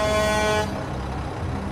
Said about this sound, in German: Ist eine ganz gute Hupe.